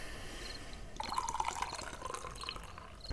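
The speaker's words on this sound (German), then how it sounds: "So, ich gieße mir einen Kaffee ein, Leute." Hot coffee is poured into a cup in a steady, quiet trickle of liquid lasting a couple of seconds, soft and close.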